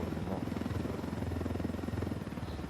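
Helicopter in the video game Ghost Recon Wildlands: a continuous, rapidly pulsing rotor thump with engine buzz, steady and moderately distant, quiet throughout with no clear speech over it.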